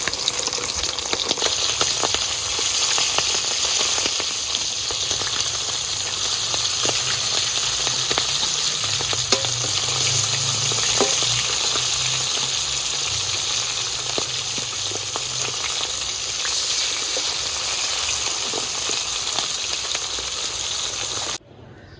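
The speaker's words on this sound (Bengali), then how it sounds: "বাকি যে মাছগুলো আছে ভেজে নেবো" Hilsa fish pieces fry in hot oil, giving a steady, loud, dense sizzle that carries on without a break and ends abruptly, with no talking.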